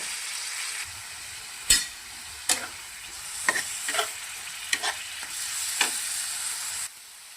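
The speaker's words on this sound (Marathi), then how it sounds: "तर आता आपण टोमॅटोची पेस्ट टाकून अजून एकदा फ्राय" Masala frying with tomato paste in hot oil, a steady close hiss with occasional spoon scrapes and taps against the pan, before the sizzle cuts off abruptly near the end.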